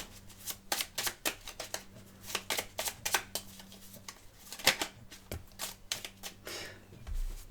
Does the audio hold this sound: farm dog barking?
no